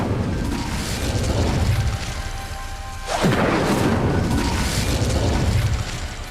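Fiery blasts from the Incendio spell in Hogwarts Legacy, roaring booms with a sharp whoosh in the middle, loud and sustained over background game sound.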